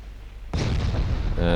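Warship guns in Ultimate Admiral Dreadnoughts fire armor-piercing shells with a sudden heavy boom after a brief quiet lead-in. A rumbling blast tail follows, and a voice talks underneath.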